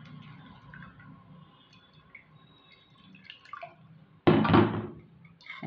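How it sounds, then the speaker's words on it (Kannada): A little water is poured into jaggery-sweetened juice: faint drips and light handling noises at first, then a short, louder splashing pour near the end. "ಸ್ವಲ್ಪ ನೀರು ಹಾಕ್ಕೊತೀನಪ್ಪ."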